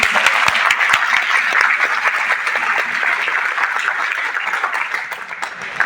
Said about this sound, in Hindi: हाँ, अब ठीक ताली है।